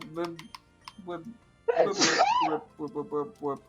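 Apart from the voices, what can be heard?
sneeze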